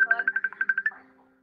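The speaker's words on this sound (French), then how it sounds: "là ça sonne dans tous les sens. Mon ordi, mon téléphone." A phone rings in a rapid trilling burst, about a dozen quick pulses in a row that then stop and fade into a faint tail, close and clear with no talk.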